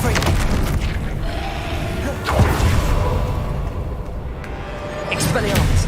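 Confringo blasting spell explosions from Hogwarts Legacy, a deep booming blast around the two-second mark followed by rumbling and whooshing spell effects, with game voices calling out over a continuous dense battle mix.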